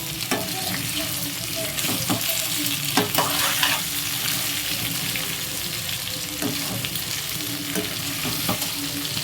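Okra fry being stirred with turmeric in a pan, with a steady dense sizzle of frying and repeated scraping strokes of a spoon against the pan, close and continuous with no talking.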